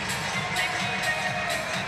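Spectators fill the gym at a college basketball opener between Bethel University and John Brown University, their crowd noise a steady, moderately loud din with faint cheering throughout.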